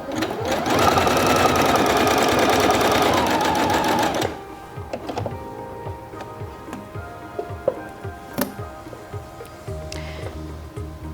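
Singer Featherweight C240 sewing machine stitching at a longer stitch length, a loud, fast, rhythmic whirring run for about four seconds, then stopping, followed by quieter ticking clicks and handling sounds.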